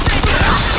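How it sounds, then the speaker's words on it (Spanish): A dense, loud burst of rapid gunfire fills a brief moment, harsh and close, a firefight in the video game BioShock Infinite. "¡Disparo!"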